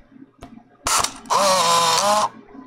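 A compact 35mm film camera takes another picture: a sharp click, then a steady whirring motor wind of about a second, loud and close with nothing else heard.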